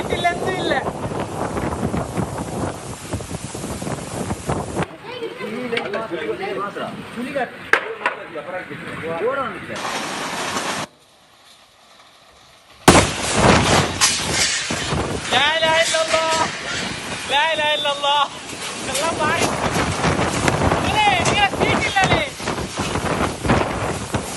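Strong wind during a heavy rainstorm in coastal Karnataka buffets the microphone in rough, roaring gusts, tearing off roof sheets, broken by a brief near-silent gap, with voices shouting faintly underneath.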